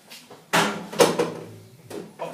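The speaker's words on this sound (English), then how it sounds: "Now you can remove the powder drawer once you've got your pliers and you remove the safety clip" A plastic powder drawer pulled out of a Whirlpool washing machine during a repair, giving a few sharp scraping knocks and sliding clunks, close and fairly loud, with no speech.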